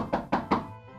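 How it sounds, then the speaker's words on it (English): Three evenly spaced knocks on a window in an animated pony fairy tale, close and distinct, with a short quiet stretch after the last rap. "it wasn't too long before she heard a knock at the window"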